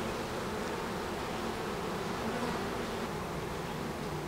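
Honeybees hum steadily around a beehive whose fresh wax combs they are building out, a dense continuous buzz close by with no talking.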